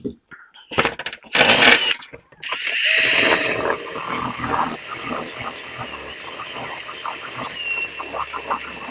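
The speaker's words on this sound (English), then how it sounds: "Maybe I can drill it from this side." A power drill bores into metal on a 1947 Ford street rod, with a loud initial burst followed by a steady whirring drone that continues to the end.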